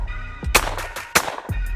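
A Century 3 shotgun with a 30-inch barrel fires through a chronograph, giving two or three sharp, loud blasts spaced about half a second apart, with no talking over them.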